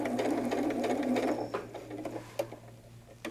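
A sewing machine stitches a fabric bunny doll in a quilting workshop, running in a fast steady whir that then breaks into shorter bursts and a few sharp clicks, close and alone.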